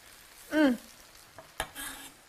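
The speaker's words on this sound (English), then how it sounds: "Give this a good stir." Paella rice is stirred in a hot pan, giving a brief scraping swish and a soft sizzle with a couple of light clinks, close and quiet, with no talk.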